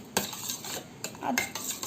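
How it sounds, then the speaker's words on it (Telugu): A spoon stirs turmeric into yogurt in a bowl, with a few soft clinks and wet scraping strokes close up over about two seconds. "పెరుగులో పసుపు వేసి ఇలా కలిపేసి ఉంచుకుని"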